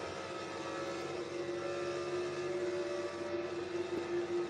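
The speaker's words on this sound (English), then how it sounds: "the motor sounds like it's going to blow up. Even though it hasn't got much damage to the engine, it sounds awful." A damaged NASCAR race car engine in a racing video game, droning steadily with a harsh, buzzy tone that holds nearly level throughout, loud and alone without talk.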